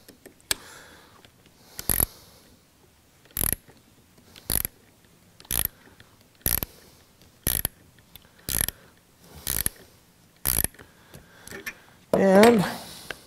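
A battery cell is tightened down with a metal spacer, using repeated short ratcheting clicks in a regular series of about ten bursts, close by, followed by a longer grinding burst at the end.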